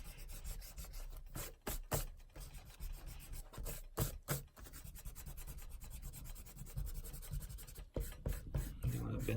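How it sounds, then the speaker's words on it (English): An eraser rubs over a pencil sketch on paper in a steady, close scratchy scrubbing with brief pauses and quick strokes, heard alone without talk. "Go ahead and erase that."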